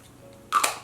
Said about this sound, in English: So I'm gonna go ahead and spray that.